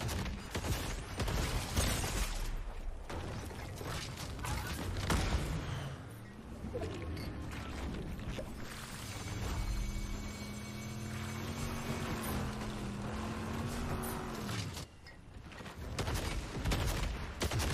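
Pirate cannon fire in Fortnite's Pirates of the Caribbean crossover, a loud booming barrage of blasts amid continuous game noise, with a low rumbling mechanical drone swelling through the middle and cutting off sharply near the end.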